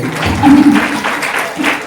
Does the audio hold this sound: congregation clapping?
yes